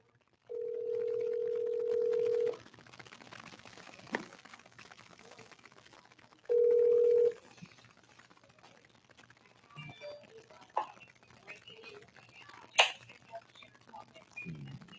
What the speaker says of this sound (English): I'm gonna call someone up, my brother up on the phone